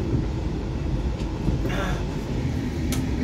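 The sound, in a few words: Lodaya economy train arriving at Kiara Condong station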